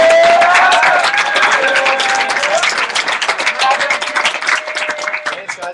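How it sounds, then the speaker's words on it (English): Audience applause welcoming Mike Walker to the stage at a business training event; dense clapping with some crowd noise and a few voices, gradually thinning toward the end. "I just want to introduce him and give him a round of applause."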